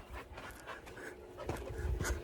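Dogs panting rapidly and close by inside a truck, a continuous breathy rhythm with a few soft whimpers and rustles, rising slightly in loudness toward the end.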